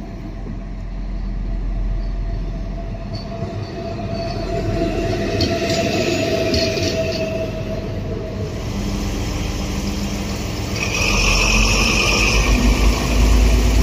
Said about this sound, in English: These are DR16 locomotives built by either Valmet or Transtech, capable of speeds of up to 140 km per hour.